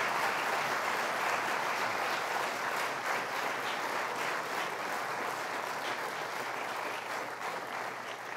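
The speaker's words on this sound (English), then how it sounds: "Would you give another round of applause to this bunch as they've done this?" Audience applauding at a Christmas concert, a dense wash of many hands clapping together, steady at first and slowly tapering toward the end, somewhat distant and unaccompanied by speech.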